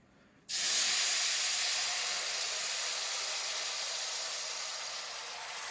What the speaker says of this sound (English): We've got some wonderful broccoli steaming up, and going to serve that with the meal as well.